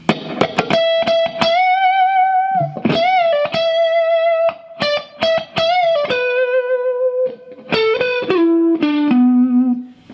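An electric guitar plays the percussive section of a song's second solo, mixing sharp muted string chucks with sustained, bent, singing lead notes. It is close, loud and distorted, with brief pauses between phrases.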